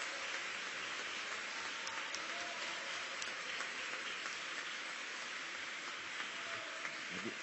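A hall full of people applauds a speaker at a talk on Chile's 2017 abortion law, a long, unbroken roar of clapping that sounds almost like heavy rain and stays at a constant level throughout.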